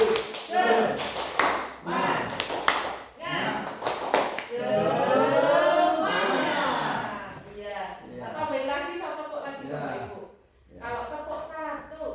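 Bapak-Ibu audience at an individual mentoring session doing a rhythmic 'tepuk semangat' clap chant, bursts of group clapping in patterned sets alternating with a leader's voice and group calls throughout.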